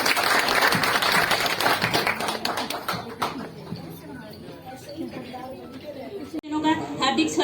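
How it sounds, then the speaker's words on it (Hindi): An audience at a women's award ceremony claps in a loud, dense burst of applause that fades to scattered claps, with people talking under it. "जोरदार तालियां बजा दीजिए।"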